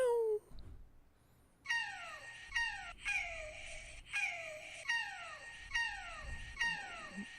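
A cat meows in a close, clear run of about seven similar falling-pitch cries at a steady rhythm, after a brief opening mew and a pause.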